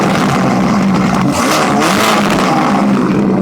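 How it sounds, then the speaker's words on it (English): A Ferrari Portofino sports car engine revs loudly up close, its throaty roar rising and falling in several surges with no talking over it. "Ferrari designed the engine to sound like a true supercar, even at lower RPMs."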